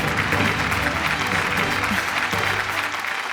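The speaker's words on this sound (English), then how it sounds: "So please give a warm round of applause to our panel of judges." An audience applauds the panel of judges at a show, a dense, steady wash of clapping lasting the whole stretch with crowd murmur mixed in.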